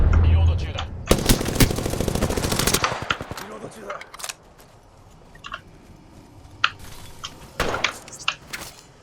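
Video game gunfire: a dense, loud burst of rapid automatic shots early on, then scattered single shots and short volleys at varying distances.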